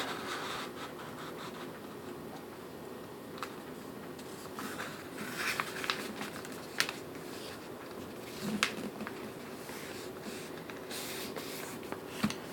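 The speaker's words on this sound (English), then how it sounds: "You fold it in half horizontally." A sheet of paper is folded in half horizontally to start a paper airplane, making soft, close rustles and crisp creasing scrapes with a few small crinkly peaks.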